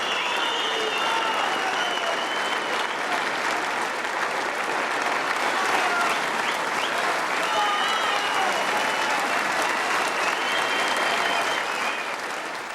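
A snooker crowd at the World Championship applauds its new champion, dense, loud and continuous clapping filling the arena throughout, with cheers rising over it.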